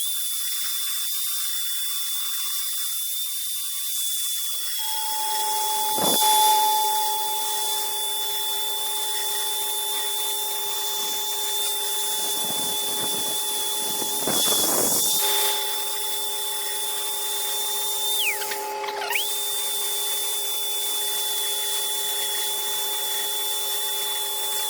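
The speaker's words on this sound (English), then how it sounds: "I'm going to take the finger sander and I'm going to clean up all this" A finger sander whines steadily as it smooths a chainsaw-carved wooden cardinal, a high constant motor tone with brief scraping bursts where the belt bites the wood, close and without speech.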